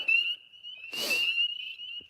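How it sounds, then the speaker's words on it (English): Frogs calling beside a pond at night, a steady high trilling chorus running throughout with a louder burst of croaks swelling in the middle, close by and alone without speech. "We're right beside the pond. That's why the frogs are so loud now."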